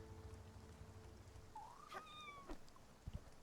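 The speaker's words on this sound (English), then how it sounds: "Did you just meow at me, cat?" A single soft meow from a cat indoors, brief and faint, rising then falling, over a quiet low background hum.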